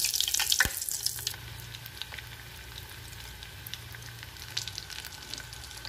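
A leftover masala snack fries in oil, giving a faint, even sizzle with a few light taps and clinks at the start, then a quiet steady crackle.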